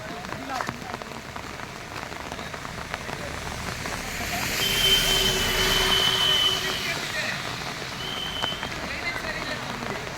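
Steady rain falls on a village house compound with blocked drains, a continuous hiss that swells louder midway, with faint talk in the background.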